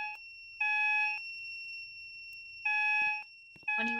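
A Simplex fire alarm sounds inside a building, giving a loud electronic horn tone in repeated bursts of about half a second over a thin continuous high tone, with clicks between bursts and no talking.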